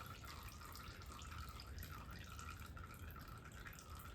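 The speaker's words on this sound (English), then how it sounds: "Oh, there's a lot of oil in that galley." Oil drains from the galley of a 1984 Chevy engine being stripped down, a faint, continuous liquid trickle and patter with no voices.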